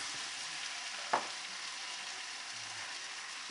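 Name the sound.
steak and noodles frying in pan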